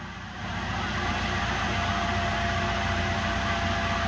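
A Volkswagen TDI diesel engine runs through a modified exhaust with its large diesel tip removed, a loud steady roar that steps up in level just after the start and holds, with no talking.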